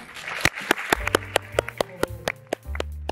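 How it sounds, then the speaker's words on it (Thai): Scattered claps from a small audience at a press event for The Lake in Bueng Kan, about a dozen sharp separate hand claps spread unevenly over a few seconds, with a low steady hum underneath. "ขอเสียงปรบมือหน่อยครับ"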